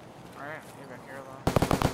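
Rapid burst of gunfire in the shooter game Escape from Tarkov, about six sharp loud shots in quick succession, following a stretch of someone talking.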